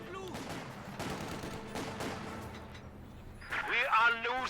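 MG42 machine gun fire in a Company of Heroes battle, a dense rattling burst of shots under constant game noise and a talking voice, with other distant gunfire and effects mixed in.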